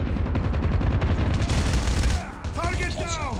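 Rapid bursts of gunfire from the mobile shooter game Call of Duty Mobile fill the clip as a dense, loud fusillade, then cut off and give way to a sweeping electronic effect.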